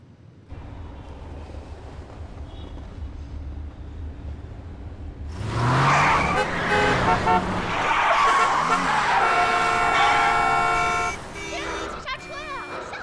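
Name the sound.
car traffic, honking and sudden braking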